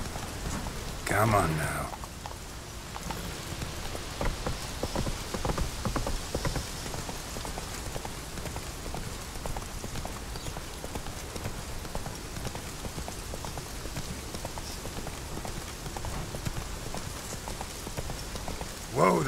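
Roach, a horse in Witcher 3, trots through rain with a steady clip-clop of hooves under constant rainfall; someone speaks briefly at the start and end.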